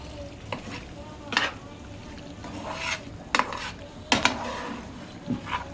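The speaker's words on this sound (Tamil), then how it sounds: "ஒரு 2 நிமிஷம் நல்லாவே பெரட்டி விடணும்." A spoon stirs pasta through masala and hot oil in a pan, giving a soft steady sizzle broken by several sharp scraping clinks against the metal.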